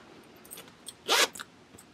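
A zipper pulled along a clear vinyl pouch, one quick rasping zip in the middle, close and fairly quiet, with a few soft handling clicks before and after.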